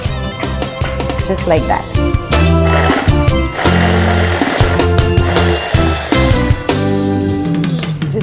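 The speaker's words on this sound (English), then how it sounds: "So now I'm just going to blitz this into a coarse puree" A blender blitzes olive tapenade into a coarse puree in loud bursts of whirring motor, stopping and restarting several times, with someone talking in the short pauses between pulses.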